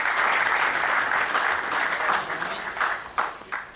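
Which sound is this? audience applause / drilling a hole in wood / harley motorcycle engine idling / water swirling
audience applause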